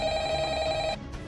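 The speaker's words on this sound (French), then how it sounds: "Le téléphone." A telephone rings as a sound effect in a Minecraft mini-film: a loud, close electronic bell trill that rings for about a second, then cuts off abruptly.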